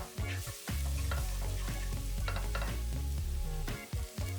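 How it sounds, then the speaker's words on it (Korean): Garlic stir-fries in two spoons of heated cooking oil in a pan, a loud, dense sizzle broken by rapid, rhythmic stirring clatters and scrapes close up. "달궈지면 마늘 넣고 볶아서"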